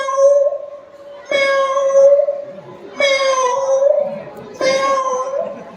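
A voice imitates a cat meowing at a door, giving four drawn-out, rising meows spaced a second or so apart, fairly loud and close, with nothing else heard between them.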